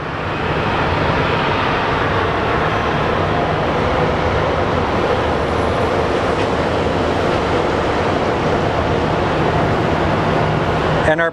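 A large airliner, an old four-engine type derived from the Boeing 707, roars loudly and continuously at Sky Harbor International Airport, a broad rumbling jet noise that holds steady for several seconds, with faint talk mixed in.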